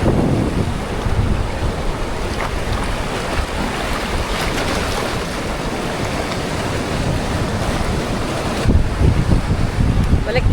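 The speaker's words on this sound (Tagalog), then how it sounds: "Yung mga alon, no? Ang lakas ng alon." Strong sea waves surge and crash at a beach spot, a loud, continuous roar mixed with gusty wind buffeting the microphone, swelling again near the end.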